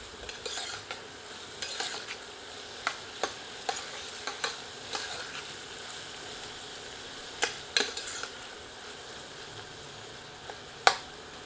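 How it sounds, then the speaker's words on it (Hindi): Onions fry over medium heat in a pan for a soya chunk curry, a soft steady sizzle broken by sharp scraping clicks of a spoon stirring at irregular intervals, with no voices. "तत्पश्चात प्याज सम्मिलित करते हैं। आंच को मध्यम कर देते हैं और इसे अच्छी तरह भूनते हैं।"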